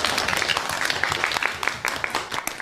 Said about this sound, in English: Everybody, a round of applause for the officer.